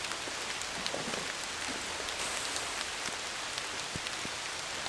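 Steady outdoor rain on a homestead, a dense even hiss of drops striking surfaces with scattered sharper taps, continuous throughout with no voices.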